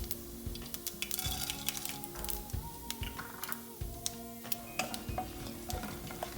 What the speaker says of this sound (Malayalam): ഇത് 5-10 സെക്കൻഡ് നമുക്ക് എണ്ണയിലിട്ട് ജസ്റ്റ് ഒന്ന് ഫ്രൈ ചെയ്തെടുക്കാം.